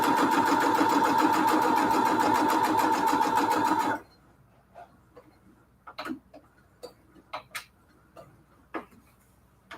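A sewing machine stitches quilt pillowcase fabric in a fast, steady mechanical whir for about four seconds, then stops, followed by scattered small clicks and handling taps.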